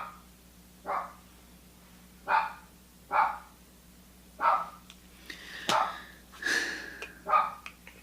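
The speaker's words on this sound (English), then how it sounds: "I don't know who or what she's barking at." Dog named Peaches barking indoors: a series of single, fairly faint woofs spaced about a second apart, with a few quicker yips near the end and no talk over them.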